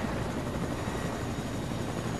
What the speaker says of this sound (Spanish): Yo le meto con helicóptero,